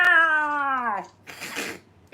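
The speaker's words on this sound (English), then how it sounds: "What is this cat doing at my door?" Cat meowing at a hotel room door, one long drawn-out meow that falls in pitch, close and loud, followed by a brief rustling noise.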